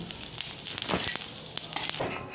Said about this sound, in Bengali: জিরে আর একটু শুকনো লঙ্কা ফোড়ন দিয়ে দিচ্ছি